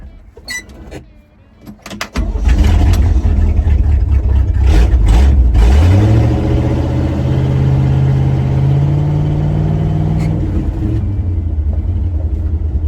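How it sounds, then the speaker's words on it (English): A 1972 Chevy dump truck engine cranks a few times and catches, then settles into a loud, close, steady rumbling idle with a rising rev partway through. "Let's get this wonderful rig started."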